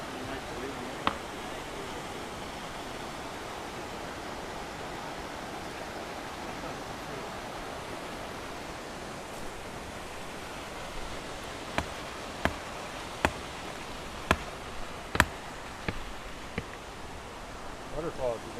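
A waterfall in the North Cascades roars as a steady, broadband rush that fills the whole stretch, with a few sharp clicks or taps near the end.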